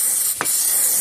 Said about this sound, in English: I just take like brake clean or something and just spray them